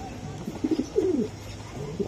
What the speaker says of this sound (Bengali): অনেক কোয়ালিটিফুল কবুতর